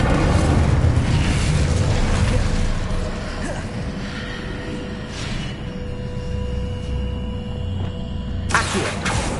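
An Incendio fire spell blast in Hogwarts Legacy, a loud whooshing burst of flame with a booming rumble that fades into a sustained hiss and crackle, ending with a sharp flare-up.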